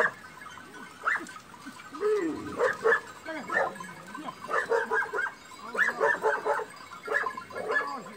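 Several dogs bark repeatedly in short overlapping bursts outdoors, moderately near, with scattered yips between them and people talking in Persian at times.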